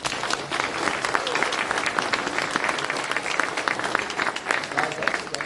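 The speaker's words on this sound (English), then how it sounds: "Let's give them a round of applause." An audience claps steadily for a scout troop at a mayor's State of the City event in Campbell, a dense, sustained round of applause from a crowd, with faint voices mixed in.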